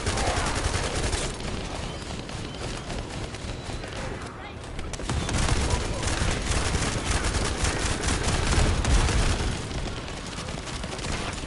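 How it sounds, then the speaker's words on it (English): Rapid gunfire from a player's weapon in a looter-shooter video game, dense bursts of shots running continuously near and loud with game audio layered underneath, briefly thinning midway before resuming. "So that's me shooting my gun."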